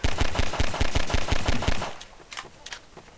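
Rapid automatic gunfire in the video game Garry's Mod, a loud burst of evenly spaced shots for about two seconds, then a few scattered fainter shots.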